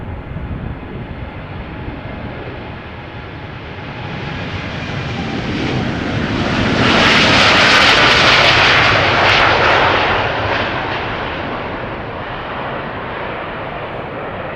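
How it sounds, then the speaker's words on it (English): A KLM Boeing 787-9 Dreamliner jet takes off from Schiphol Airport, its engine roar swelling from a steady rumble to a loud peak at mid-pass, then easing off while staying strong. "And more Dreamliners taking off over here as well."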